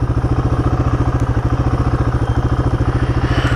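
A Royal Enfield 450 Guerrilla motorcycle engine runs steadily at idle close by, a loud, even thumping pulse that repeats rapidly without a break.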